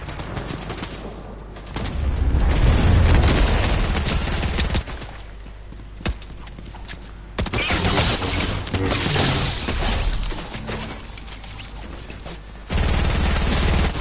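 Loud, rapid bursts of Fortnite gunfire crackle in waves with brief lulls between, like an automatic weapon firing in sustained volleys.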